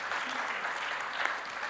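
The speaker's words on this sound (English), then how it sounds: "Let's give a round of big applause again to all the speakers." A conference audience gives a steady, dense round of applause at an international CEO forum. The clapping comes from a large crowd, stays fairly even, and is heard on its own.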